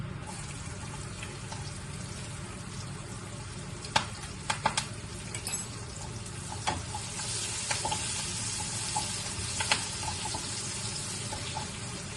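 Green chillies and onions frying in hot oil, a continuous crackling sizzle with scattered sharp pops and occasional stirring clinks, heard close and alone.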